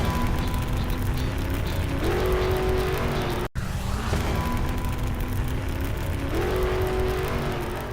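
U.S. Army Top Fuel dragster engine roaring loudly and steadily, with rising pitch sweeps as it revs, a brief cut midway, then the thunderous drone resumes.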